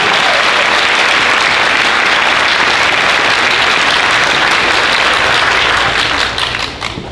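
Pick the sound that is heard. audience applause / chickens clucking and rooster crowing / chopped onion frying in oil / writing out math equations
audience applause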